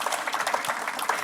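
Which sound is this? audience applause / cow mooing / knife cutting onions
audience applause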